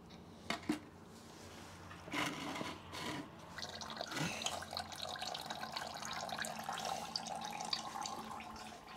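Gear oil draining from the transmission of a Subaru Sambar, a thin steady trickle and patter with a few sharper metallic clinks near the start, close and fairly quiet with no talk.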